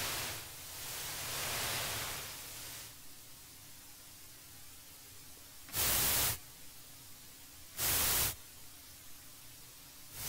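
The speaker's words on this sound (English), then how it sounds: "let me just get white noise happening" Synthesized white noise hisses steadily, swelling and fading, then two short, bright noise bursts punch in a couple of seconds apart.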